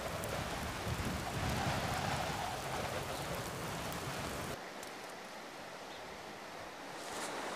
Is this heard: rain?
yes